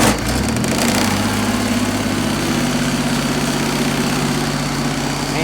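A John Deere 322 lawn tractor engine starts up and settles into a steady, loud idle with a rattling, vibrating drone. No one speaks.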